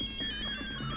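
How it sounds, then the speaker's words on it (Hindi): A phone ringtone warbles continuously, a bright electronic tone repeating close and clear for the whole second with no voices over it. "सर बज रही है सर, अब फोन की घंटी ही"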